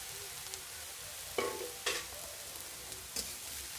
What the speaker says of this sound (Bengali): হলুদ দিয়ে নাড়িয়ে চাড়িয়ে তারপরে ভাজা ভাজা হবে